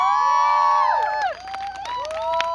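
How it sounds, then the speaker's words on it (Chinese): A crowd cheers and claps to welcome a singer onto the stage, with rising and falling whoops and shouts over scattered applause that dip briefly in the middle and then swell again. "欢呼声不要停"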